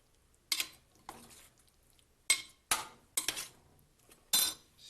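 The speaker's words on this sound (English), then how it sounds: "the pasta is cooked, so I'm going to combine the two. And just give it a light stir," Cooked pasta being stirred with a metal utensil in a pot, giving five or six separate clinks and scrapes spaced across the moment, close and fairly crisp, with no talking.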